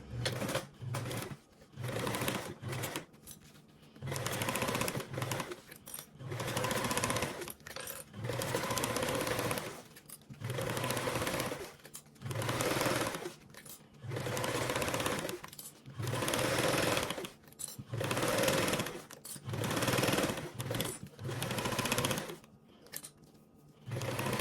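Sewing machine stitching fabric with a quarter-inch seam allowance, running in repeated bursts of about a second each, separated by short pauses, close and steady with no talk.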